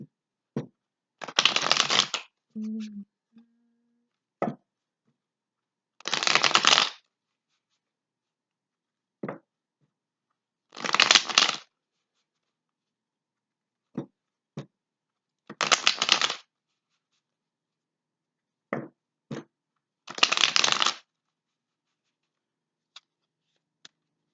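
Tarot cards being riffled and shuffled in several separate bursts, each a crisp rapid flutter lasting about a second, with quiet taps and pauses between.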